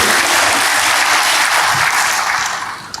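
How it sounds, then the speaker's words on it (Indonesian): A church congregation gives dense, steady applause that sounds close and fills the room, then thins out near the end. "Yang percaya berikan tepuk tangan bagi Tuhan."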